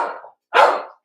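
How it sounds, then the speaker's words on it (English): A dog on a house porch gives two short, loud barks close by, with a clear gap between them and no speech. "he's saying hello to you all with his barking"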